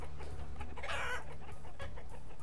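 Chicken clucking from the village-building game Banished, a steady run of close clucks and squawks, loudest around the middle of the stretch, over a constant low ambient bed.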